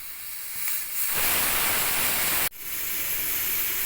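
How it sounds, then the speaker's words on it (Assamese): A pressure cooker full of mutton lets off steam in a loud, steady hiss that swells up after a second of quieter noise. The hiss cuts out for an instant, then carries on, close by with no talk. "এতিয়া এইখিনিত মই প্ৰেছাৰ কুক কৰিম 3-4টা হুইচেললে"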